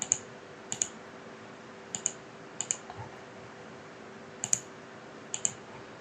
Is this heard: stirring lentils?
no